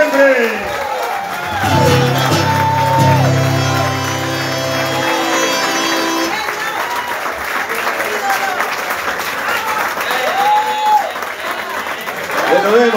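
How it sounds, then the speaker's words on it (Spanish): A crowd at a folk peña applauds and cheers after a folk song, with loud sustained clapping, scattered whoops and shouts, and a few voices calling out over the ovation. "Bien fuerte nuevamente ese aplauso."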